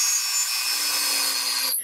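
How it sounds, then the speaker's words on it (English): A rotary tool drills into a resin angel coaster, giving a steady high-pitched whine that holds for almost two seconds, then stops abruptly. "Now I'm going to just drill right into her head carefully."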